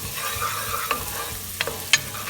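Cilantro and turmeric sautéing in a pan for alphabet soup, a soft steady sizzle with a few brief utensil clicks and scrapes, close and without speech.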